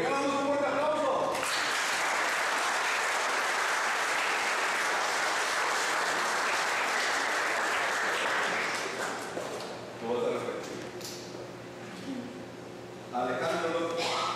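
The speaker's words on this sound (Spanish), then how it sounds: "damos un fuerte aplauso" Wedding guests at a Spanish-language ceremony burst into loud, sustained applause that fills the room for several seconds, then fades as a voice takes over; a brief second swell of clapping comes near the end, with talk around it.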